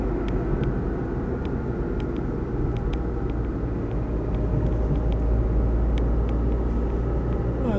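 A Land Rover Freelander 2.0 diesel cruises along a straight road, its steady engine and road rumble droning loud and continuous from inside the cabin, with no talk over it.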